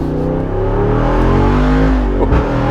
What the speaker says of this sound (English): This is my first time ever driving the V8 model of the Wrangler.